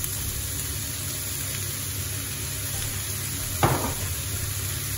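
Rice stirred into chorizo frying in a pan for a paella: a steady, even sizzle fills the whole stretch, broken by a single brief scrape of the spoon near the end.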